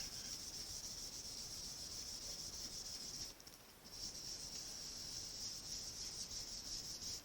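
Blending brush rubbing ink lightly onto cardstock, a soft continuous hissy scrubbing heard close and quiet, with a brief lull midway and no voices.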